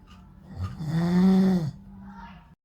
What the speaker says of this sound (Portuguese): Para de roncar